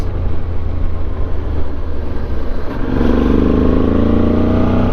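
A Suzuki V-Strom 650 motorcycle engine runs steadily close by, its rumble swelling as it accelerates partway through, with no talking.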